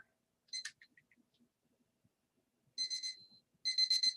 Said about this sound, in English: chiming of a timer will indicate that the speaking time has expired